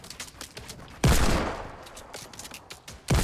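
Video game gunfire in a shooter match, several sharp shots in quick succession, one big close blast with a trailing echo, then more cracks around it, loud and punchy.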